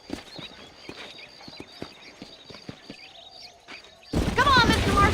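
Horse hoofbeats in the western video game Red Dead Redemption, a steady clip-clop of several horses trotting at close range, followed near the end by a loud burst of game sound or voices that swamps the hooves.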